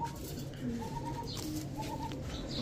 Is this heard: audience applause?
no